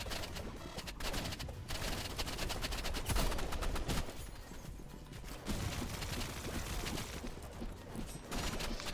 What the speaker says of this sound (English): Someone's shooting through walls?